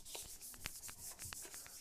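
A Cushman fender is wet-sanded with soapy water, giving a quiet, steady rubbing with short scratchy strokes repeating every fraction of a second, close and faint.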